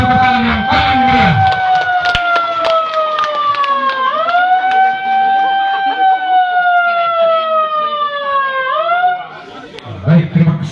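A loud wailing siren rises and falls in long sweeps at a hospital inauguration ceremony in Bajawa, Indonesia, sounded by pressing a siren button, with crowd chatter underneath and voices returning as it winds down.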